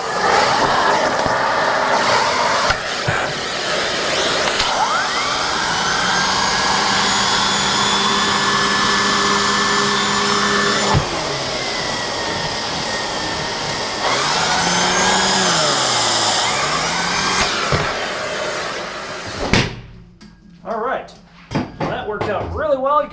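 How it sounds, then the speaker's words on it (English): A central vacuum overspins a hand-held turbo tool, with a loud, rising whir and pitch that dips and climbs as the brush spins up and slows, ending abruptly followed by a few light knocks. "Now I'm going to put it to my central vac and we're going to overspin it."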